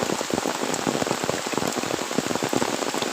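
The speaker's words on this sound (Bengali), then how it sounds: "এই দেখো প্রচুর বৃষ্টি পড়ছে" Heavy rain pours down in a village, a dense continuous patter of drops striking surfaces close by, loud and unbroken with no voices.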